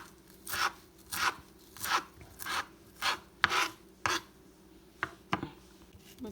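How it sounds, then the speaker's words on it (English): A knife chopping fresh cilantro on a board, with about a dozen crisp, evenly spaced strokes in a steady rhythm, close and clear with no talking. "I'm cutting right here my cilantro for my toppings for the burritos"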